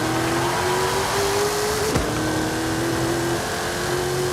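A Chevrolet K10 truck with a drag tune in the Forza Horizon 5 racing game holds a loud, steady engine drone with a slightly rising pitch. It runs continuously and close, with a brief bump near the middle and no talking.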